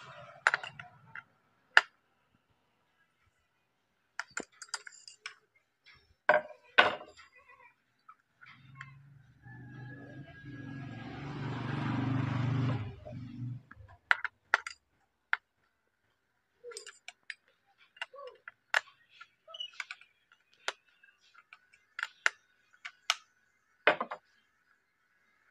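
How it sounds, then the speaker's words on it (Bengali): A wrench works a nut loose on an electric rotary tiller, giving faint, scattered metallic clicks and clinks spread over the stretch, with one short rattling, grinding burst in the middle. "এবার আমি রেঞ্চ দিয়ে খুলবো।"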